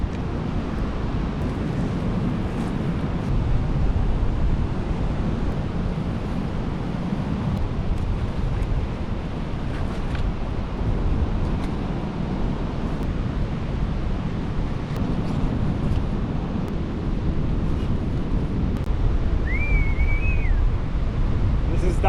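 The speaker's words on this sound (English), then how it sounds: "this bloody wind doesn't make it any easier" Strong coastal wind buffets the microphone in a steady, loud low roar for the whole stretch, with surf-like rumble beneath and a faint high whistle near the end.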